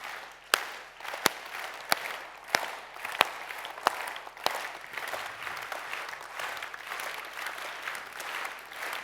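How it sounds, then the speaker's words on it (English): Audience applause at a science forum opening ceremony, a dense, steady wash of clapping from a large crowd that runs throughout, punctuated by several sharp, loud individual claps in the first few seconds. "That's a very nice and easy way of getting applause."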